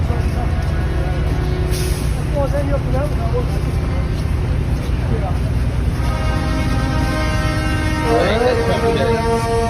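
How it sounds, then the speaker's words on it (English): Loud vehicle horns and truck air horns honk over and over at a protest convoy, sustained tones layered with voices talking throughout the din. "it's really loud, the honking"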